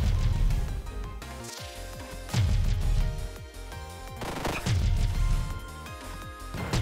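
Shotgun blasts in the video game One Step From Eden, several loud booming shots at irregular intervals amid layered game music and effects.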